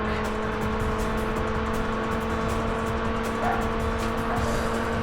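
A racing car engine drones steadily in the Burnout video game, a loud sustained motor hum with faint tire and road noise and no pauses throughout.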